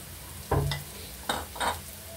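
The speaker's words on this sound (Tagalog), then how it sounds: "isasabay natin sa pagprito ang sili" Tilapia and chilli frying in oil in a home kitchen pan, with a faint steady sizzle under a few short louder bursts of stirring and scraping. No one speaks.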